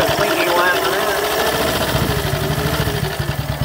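A 1932 Cotton Blackburn 150cc motorcycle engine runs with a rapid, even putter that grows more distinct midway, close and moderately loud, with some voices over it early on.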